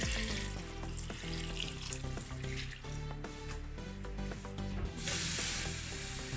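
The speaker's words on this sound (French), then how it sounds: "après avoir mis mon bissap, je vais rajouter de l'eau." Water pours into a pot of dried hibiscus (bissap) petals, a continuous splashing, hissing stream, fairly close, with a brighter surge of rushing water near the end.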